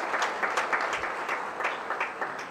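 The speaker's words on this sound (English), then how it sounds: "Give a big applause to these doctors and nurses" Audience at a business school commencement applauds doctors and nurses, a steady wash of clapping at moderate level with slightly uneven pulses throughout.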